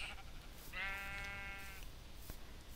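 A single drawn-out sheep bleat from the video game New World, about a second long, clear and fairly close against a faint ambient background, with no talking.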